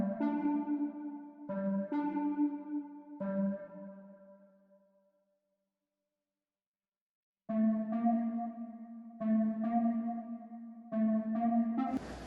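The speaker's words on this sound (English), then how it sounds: "remove the notes that I didn't want to play to create a breakdown, a stripped down section of my melody" Sparse, stripped-down melody from a beat built in Soundtrap: bell-like synth notes in short phrases, a few seconds of silence, then the pattern returns, fairly quiet with no voices.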